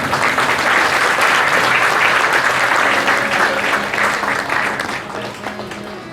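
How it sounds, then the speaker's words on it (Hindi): An audience in a hall applauds loudly and steadily as a student is called to the stage to receive an award, the clapping fading slightly toward the end. "उनसे आग्रह है कि वे आए और तालियां जोरदार होनी चाहिए।"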